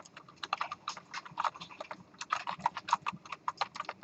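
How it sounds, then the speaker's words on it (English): Numbers separated by commas are typed on a computer keyboard, a close, continuous run of crisp, uneven keystrokes heard alone for about four seconds. "I'm just going to type in some numbers separated by commas."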